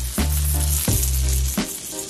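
Dry-brined steak sizzling steadily in a hot pan, with loud continuous frying and a few sharp bumps and clunks as the meat is flipped.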